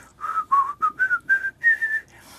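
Sung folk tune whistled in a clear melodic line of about seven distinct notes, rising toward the end, heard alone and close.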